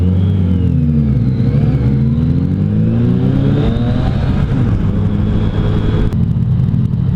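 A Yamaha FJ-09 motorcycle engine revs up loudly during a ride, its pitch rising and falling in steady sweeps over continuous close-up road and wind noise.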